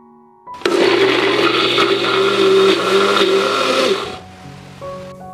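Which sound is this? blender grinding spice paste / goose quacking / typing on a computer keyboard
blender grinding spice paste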